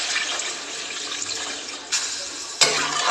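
Water is poured into a cooking pan of potatoes and spices in hot oil for a fish curry, a steady close splashing rush with a couple of brief louder clatters near the end.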